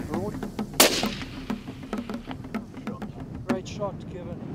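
A single sharp rifle shot cracks out at an animal about 400 yards away on a safari hunt, loud and abrupt against an outdoor background, with a voice speaking quietly around it.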